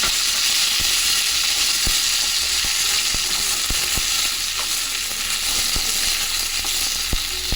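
Chopped medium-sized tomatoes sizzle steadily in a pan with a constant bright hiss, while a utensil scrapes and taps the pan in frequent sharp clicks.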